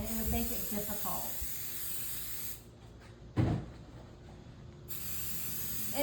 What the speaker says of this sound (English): So I'm going to spray, and you don't want to use a lot of spray.